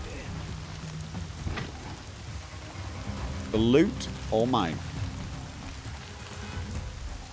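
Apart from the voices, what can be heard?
heavy rain in the video game Horizon Zero Dawn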